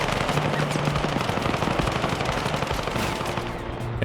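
Rapid automatic gunfire rattles continuously in a Battlefield 6 match, dense loud bursts of shots layered with distant battle noise throughout.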